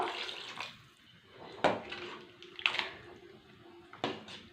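Water splashed into a pot holding tamarind juice, chili powder and salt for a bottle gourd curry, a few brief close pours and splashes separated by quiet pauses, with no talk.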